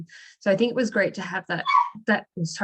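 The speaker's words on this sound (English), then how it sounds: "that was my dog." A pet dog barks and yips in short bursts close by, its calls mixed in with a person talking right over them.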